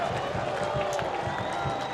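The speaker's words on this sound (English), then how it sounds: "Crowd loves it when the captain's making those type of plays." A stadium crowd at a Sacramento Republic FC versus Colorado Springs Switchbacks soccer match roars in response to captain Lopez's tackle, a steady, dense wash of cheering and clapping throughout.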